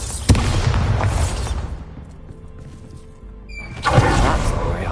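A Bombarda spell explosion in Hogwarts Legacy, with a sharp boom and a burst of loud rumbling debris, then a quieter lull and a second heavy blast with crumbling noise, close and full.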